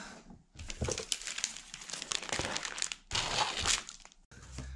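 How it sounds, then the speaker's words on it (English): Plastic bagging film for carbon fiber infusion is handled and cut, giving loud, close crinkling and crackling in irregular bursts with short gaps, heard without any talk. "last thing we need to cut is our bagging film"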